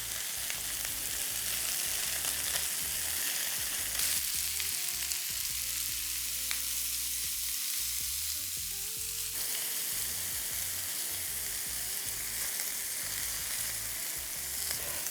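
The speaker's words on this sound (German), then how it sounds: "Den Rest durchgaren machen die jetzt erstmal in der Pfanne" Meatballs sizzle and fry steadily in a pan inside an Omnia oven, with a continuous crackling hiss throughout and brief scraping as they are turned.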